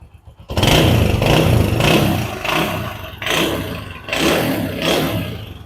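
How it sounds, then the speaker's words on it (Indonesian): A 1997 Honda WIN 100 motorcycle engine starts close by, then runs with a rough idle and swells in a few repeated revs, loud and without talk. "Suara mesin juga masih enak."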